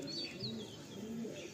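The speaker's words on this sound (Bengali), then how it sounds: "এটা মাদি পায়রা, এটা নর পায়রা" A male and female pigeon pair coo back and forth in a loft in Garia, low rolling coos with a few brief higher chirps, close and fairly quiet, no voices.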